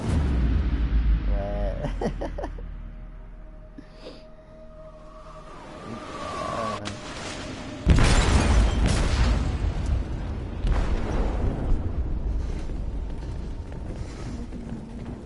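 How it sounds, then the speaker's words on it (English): An explosive detonates in a ship's hold in the video game Detroit: Become Human. A deep, heavy boom hits midway and leaves a long rumbling roar, with voices heard around it. "They detonated an explosive in the hold."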